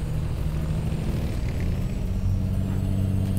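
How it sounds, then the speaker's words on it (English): A heavy truck's diesel engine in the driving game American Truck Simulator gives a steady, low, rumbling drone that runs unbroken throughout, close and fairly loud, with no talking. "I have to unmute the stream a minute so I can hear the engine on this thing."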